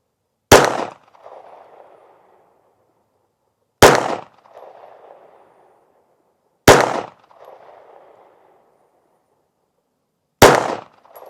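An M&P 380 Shield EZ M2.0 Performance Center pistol fires four separate loud, sharp shots at a target, spaced about three seconds apart, each followed by a short echoing tail, with no talking.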